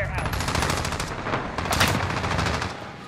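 Rapid automatic gunfire in the Modern Warfare video game during a competitive match, dense sustained bursts of loud close shots over about three seconds, with players talking faintly underneath.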